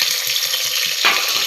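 Onions sautéing in a pressure cooker for tomato chutney, a steady loud sizzle close by with soft rhythmic stirring scrapes underneath throughout.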